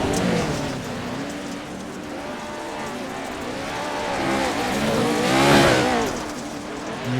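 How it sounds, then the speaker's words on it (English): A Pro truck races on the dirt track at Bark River, its engine droning loud and steady with rising and falling revs as it gains on another truck, the roar swelling toward the end. "we're already catching up to one of the other trucks that's on the track"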